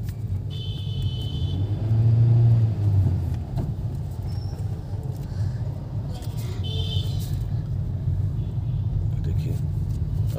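A Hyundai Nios creeps off in first gear with no throttle, a steady low engine and road rumble filling the cabin while a voice talks over it.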